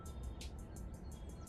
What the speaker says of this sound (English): I can, for example, hear the birds right now.